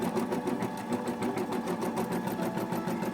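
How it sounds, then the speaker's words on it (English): Sewing machine running a straight stitch on fabric for a zipper pouch, a steady, rapid mechanical chatter heard close and alone. "lower my presser foot, and let it stitch out the top"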